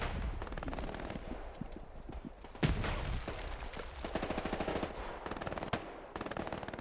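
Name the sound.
grenade explosion in the video game Hell Let Loose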